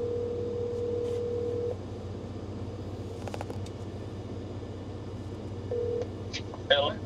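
An outgoing phone call rings on a boat: a long steady ringback tone, then a gap of low engine and wind rumble, then a brief second tone.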